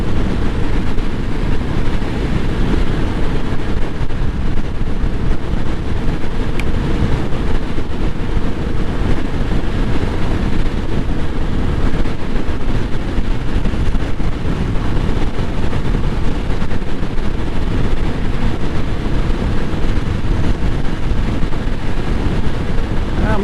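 A Suzuki DR650 motorcycle in fifth gear at around 65 mph into a strong headwind, heard as a constant loud roar of wind buffeting and engine drone, steady throughout with no speech.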